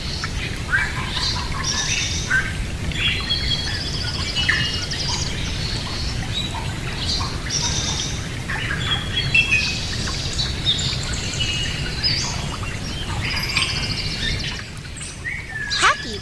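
Parrot squawks, chirps and whistles repeat throughout at close range over a steady low background hum, the calls dense and overlapping with little pause.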